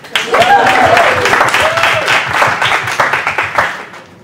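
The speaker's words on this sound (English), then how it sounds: "Should we clap?" An audience at a PrideWestern panel event claps as a panelist comes on stage, a loud close burst of applause with a few whoops that gradually thins into scattered claps.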